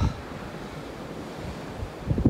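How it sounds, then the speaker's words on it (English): Steady, strong wind on a cold mountain ridge roars and buffets the microphone, with gusts swelling toward the end and no one speaking. "that wind is just what's really biting at your skin today"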